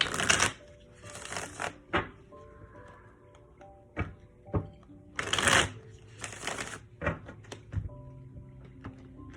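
Tarot cards are shuffled by hand in repeated crisp riffling bursts, with soft taps and clicks as the deck is squared between shuffles. The sound is close and clear and no one speaks.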